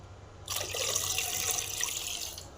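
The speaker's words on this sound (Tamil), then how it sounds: "இப்போ கொஞ்சம் தண்ணி ஊற்றிக்கலாம்" Water pours steadily into curd after a brief quiet moment, a close, continuous splashing trickle lasting a couple of seconds.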